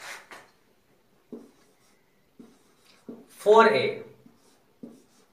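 Handwriting, heard as short, faint scratching strokes in the quiet gaps around someone speaking a few words, close up.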